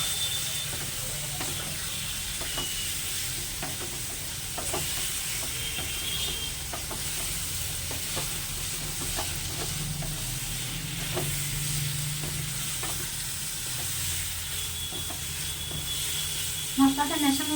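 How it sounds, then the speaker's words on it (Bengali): Chicken with spices for biryani being stirred in a frying pan, giving a steady sizzle with a run of scraping and clinking strokes throughout. A louder clatter comes near the end, and there is no talk. "চিকেনের সাথে মশলাটা ভালোভাবে মিশিয়ে দিতে হবে।"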